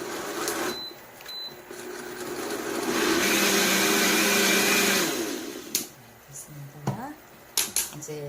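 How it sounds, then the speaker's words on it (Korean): Blender grinding cooked red beans (adzuki) for Korean red bean porridge, a loud steady whir building over several seconds with brief pauses, with a few kitchen clatters and light speech near the end. "다 익은 팥을 믹서기에 갈아주세요."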